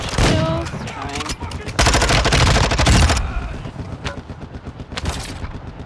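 Enemy gunfire in Call of Duty DMZ on Ashika Island: loud, close bursts of rapid automatic fire and sharp single shots, dense at first, then thinning into scattered cracks.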